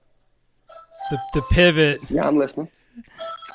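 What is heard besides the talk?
doorbell ringing in the background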